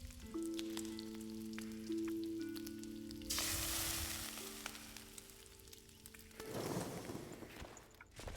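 Meat sizzling as it overcooks on a fire in the Enshrouded video game, a steady hiss and crackle that swells in bursts over a game hum.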